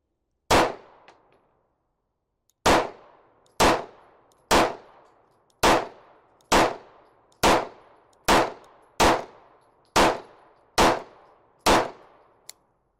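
Sharp, loud gunshots from a 5-inch Prodigy pistol at a shooting range: one opening shot, a pause, then a steady series of about ten evenly spaced shots, each with a ringing decay, ending in a faint click.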